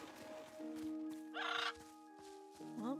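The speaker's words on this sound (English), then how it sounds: "Well, that was a new bird sound." A bird calls in the cartoon forest of the video game Little Witch in the Woods: a few clear, warbling tonal calls with short pauses, including a bright rising burst midway and another at the end, over soft sustained music notes.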